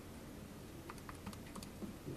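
Faint, light button presses as numbers are entered into a calculator, a scattered run of soft taps over a steady background hiss.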